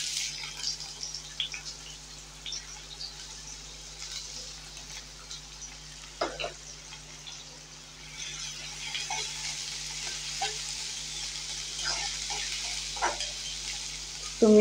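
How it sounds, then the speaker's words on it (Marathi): Cumin seeds and onion frying in hot oil for a spicy cucumber thecha give off a soft, steady sizzling hiss with scattered faint crackles and pops, fairly quiet and continuous throughout. "जिरं पण छान असं तरतरलं पाहिजे"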